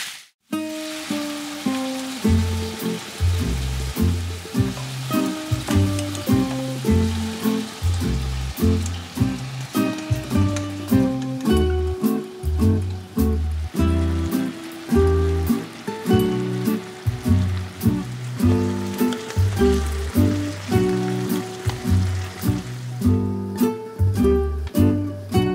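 Teriyaki chicken fries in a pan with asparagus, a loud steady sizzle with crackling pops and spatters running throughout, no one speaking.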